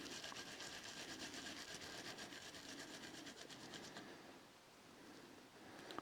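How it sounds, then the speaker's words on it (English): A garlic clove is rubbed against a kitchen grater in a steady, fast rasping rhythm of repeated scraping strokes, close and fairly quiet, easing off toward the end. "take your garlic clove, grate it or chop it finely"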